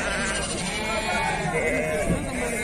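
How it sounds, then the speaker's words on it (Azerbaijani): Sheep bleat at an outdoor livestock market in Füzuli, Azerbaijan, several animals calling over steady crowd chatter and nearby voices of people bargaining throughout. "Neçədir bu balalı qoyunlar, qardaş?"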